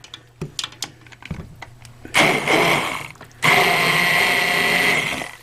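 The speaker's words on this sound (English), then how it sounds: "So all I'm going to do now is just take my immersion blender." Roasted broccoli soup is whirred by an immersion blender in two loud, steady bursts, preceded by scattered clicks and knocks of handling at close range.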